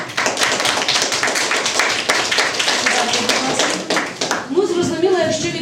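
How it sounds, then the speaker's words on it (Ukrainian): Sixth-grade schoolchildren in a classroom applaud their competing quiz teams, a thick patter of many small hands that fades near the end as voices take over. "Привітали наші команди оплесками."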